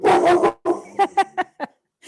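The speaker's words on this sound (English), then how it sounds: "Oh, my dog thinks someone knocked at the door." A dog barks at what it takes to be a knock at the door: one long, loud bark burst and then a run of four or five shorter, sharp barks. The barking is close and clear, with short silent gaps between the barks.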